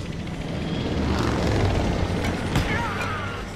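A helicopter boss in Dead Rising 2: Off the Record roars with a steady, dense rotor and engine drone, loud and continuous throughout.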